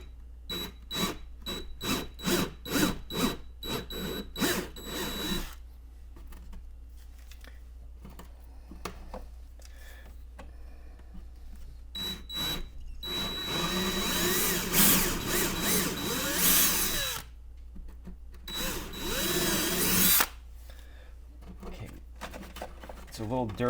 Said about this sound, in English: we're going to pilot new holes